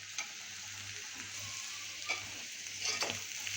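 Tripe with raw garlic cloves frying in a pan while being stirred, a soft, steady hiss of oil with a few brief scraping clicks, fairly quiet and close.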